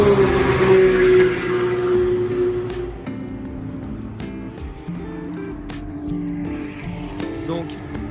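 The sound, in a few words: Porsche flat-six cars driving on Francorchamps circuit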